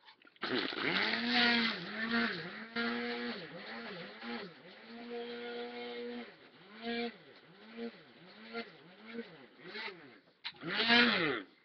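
A small coffee grinder pulverizes powdered incense ingredients in repeated short bursts, its whining motor rising and dropping with brief pauses between pulses, close and loud.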